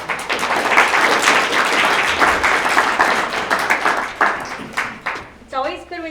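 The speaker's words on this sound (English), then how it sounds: "It's always good when you get applause at the beginning" An audience applauds at a community presentation on environment- and neighbor-friendly yards, with dense, lively clapping for several seconds that thins out near the end as a voice begins speaking.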